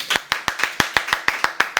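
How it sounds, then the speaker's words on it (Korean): Audience clapping to welcome a guest seller at a business talk: evenly spaced, crisp claps in a steady rhythm, about eleven in under two seconds. "박수!"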